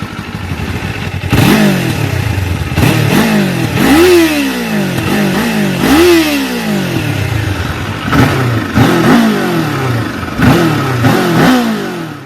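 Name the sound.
Kawasaki KLE500 motorcycle engine revving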